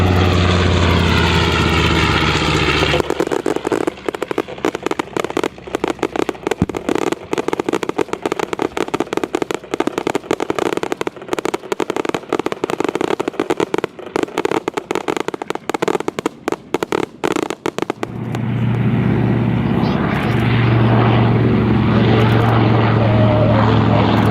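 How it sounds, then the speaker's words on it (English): A B-25 bomber, the oldest flying example, roars loudly during takeoff at an outdoor airshow, its propeller engines droning hard and crackling continuously, then easing into a lower, steadier hum. "That B-25 taken off is the oldest flying B-20"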